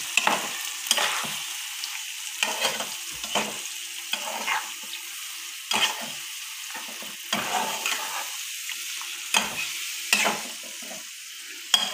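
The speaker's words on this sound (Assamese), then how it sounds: "এইখিনি অকণ ভাজি ল'ম।" Marinated chicken frying in a pan for a Chicken Maharani curry: a steady close sizzle broken every second or so by scraping, clattering stirs of the spatula.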